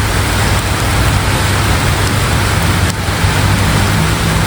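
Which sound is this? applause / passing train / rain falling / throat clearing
rain falling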